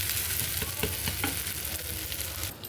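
Dosa batter sizzles and fries steadily on a hot pan, a continuous crackling hiss with faint scraping touches, close and alone without talk.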